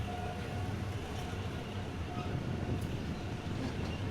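A train turns off the main line onto the eastern line in Bangkok, a steady rumble of wheels and rolling stock filling the whole stretch at moderate level with no distinct horn.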